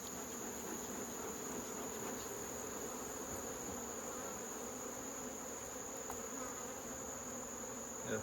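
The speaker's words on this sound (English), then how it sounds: "Good population of bees here" Honey bees hum in a steady, dense, close drone around an opened hive, holding one even tone throughout with no voices.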